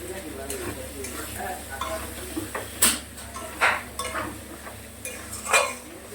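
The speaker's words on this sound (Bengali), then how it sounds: "পোস্তটা দেখো একটু আরেকটু ভাজা ভাজা হবে। পোস্ত কিন্তু খুব বেশি ভাজতে লাগে না।" Poppy seeds with salt, turmeric and chili powder fry in a pan under a soft steady sizzle, while a spatula stirs and scrapes against the metal in several sharp, close strokes.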